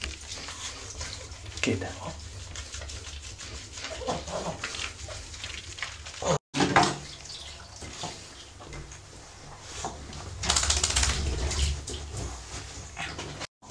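Water splashes steadily while a dog is rinsed during a shampoo wash by an at-home pet groomer in Madrid, with a brief pause midway and a louder gush near the end; a person talks over it.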